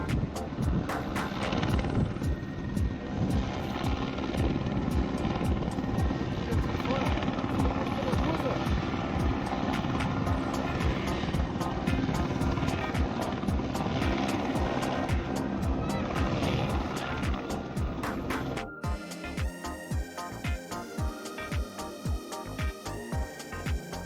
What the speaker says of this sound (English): the chopper that had brought the medical attention ended into a hard landing